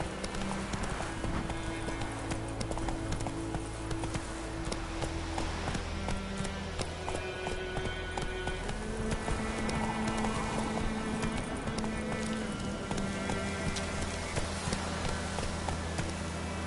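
A horse gallops in The Witcher 3 on PS5, its rapid clip-clop hoofbeats running steadily under a constant bed of game music and ambience, with no voices.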